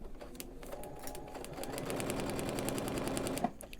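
A sewing machine runs a short seam through fabric on a foundation paper piecing template, a steady close whir rising to a faster continuous hum before stopping with a small clunk.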